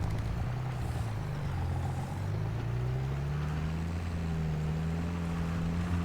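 Steady, loud tractor engine drone from Farming Simulator 22, with a low rumbling hum whose pitch slowly rises as the engine works under load on an alpine farm, continuous and alone without talk.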